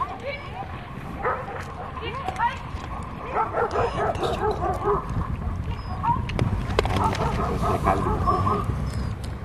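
Several Siberian Husky sled dogs bark and yip in a busy mix on a main city street, some close and some farther off, with people talking over them throughout.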